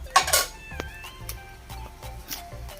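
A seafood stir-fry with chili paste and basil is scooped from a pan onto a plate, with a bright metal scrape and clink near the start followed by a series of lighter utensil taps and knocks, close up and without talk.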